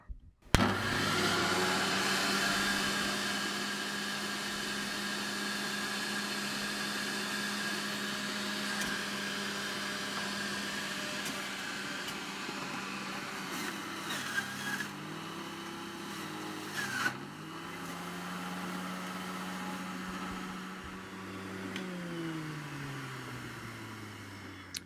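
A ViDiA centrifugal juicer motor runs continuously as it juices fruit, giving a loud steady whine whose pitch dips and wavers as pieces are pushed through, with no talking.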